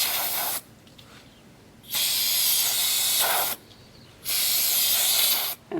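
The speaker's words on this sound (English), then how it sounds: "I will use this brake cleaner to remove as much as I can" Brake cleaner sprayed onto a Honda lawn mower in two long, loud hissing bursts, each lasting over a second, with a short pause between them and a brief final spurt.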